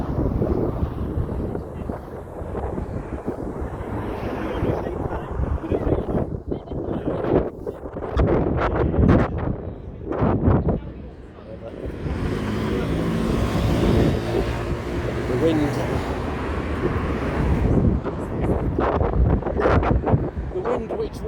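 Wind buffets the microphone in a steady low roar, gusting louder at times, with a person talking intermittently over it outdoors at the Anglia Square demolition site.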